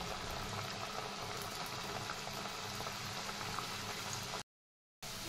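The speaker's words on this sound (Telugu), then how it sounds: "ఇలా రెండు వైపులా సమానంగా తిప్పుతూ బ్రౌన్ కలర్ వచ్చే వరకు కూడా ఫ్రై చేసుకోవాలి" Badusha sweets deep-frying in hot oil in a kadai give a steady, dense bubbling sizzle that holds evenly throughout, broken by one short silent gap near the end.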